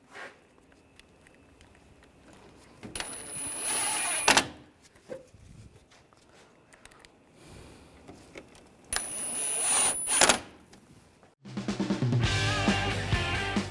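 Power screwdriver driving screws into the front bumper cover of a 2009-2017 Volkswagen Tiguan, two short high-pitched whirring bursts with quieter rustling and clicks between, then a louder clattering stretch at the end.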